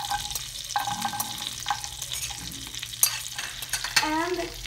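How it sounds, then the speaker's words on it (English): Eggs and corn fry in melted butter in a pan while a utensil stirs them, giving a steady sizzle broken by repeated scraping and clinking strokes close by. "Then we can mix the eggs."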